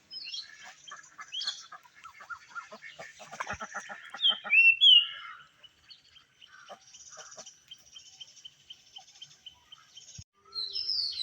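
Ducks at a poultry house give scattered quacks and squawks, some brief bursts fairly close and loud, separated by quiet gaps with faint rustling.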